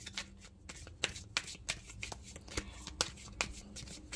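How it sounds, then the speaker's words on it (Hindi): A tarot card deck is shuffled close up, giving rapid riffling flutters and crisp snaps in uneven bursts, soft and intimate over faint background hiss. "थोड़ा इससे भी एक बारी शफल कर लेते हैं कि आपके लिए क्या गाइडेंस आई है"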